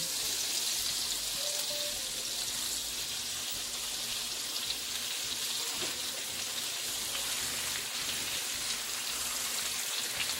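Food sizzles steadily in a hot pan on a home kitchen stove, a dense continuous crackle and hiss that holds at an even level throughout, with no voices.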